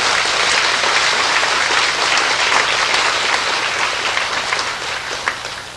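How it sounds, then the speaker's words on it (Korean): A large congregation at a church inauguration service applauds loudly and continuously, a thick wash of clapping over a low hum that tapers slightly near the end. "박수로 감사를 표시해 주시기 바랍니다"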